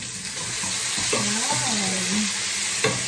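Tomatoes and onion sautéing in a pan, a steady close sizzle with some stirring and clinking of a utensil, a faint voice briefly heard underneath.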